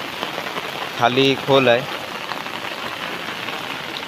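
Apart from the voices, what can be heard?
heavy rain falling in Konkan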